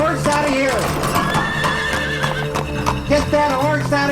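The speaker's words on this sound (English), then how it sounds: "Get that horse out of here." A horse whinnies loudly and repeatedly while hooves clip-clop close by, mixed with background noise and voices.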